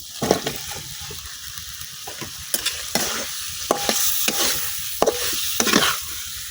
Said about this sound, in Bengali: এখন মশলার সাথে মাংসটা কিছুক্ষণ কষাই নেন।